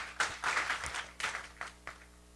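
A seated audience at a devotional religious gathering applauds in a few short, soft waves of clapping, fairly distant and without talk.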